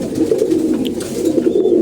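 Pigeons coo steadily in a dense, overlapping murmur, several birds at once, close by and loud without pause.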